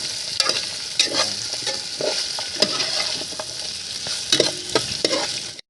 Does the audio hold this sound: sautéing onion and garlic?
yes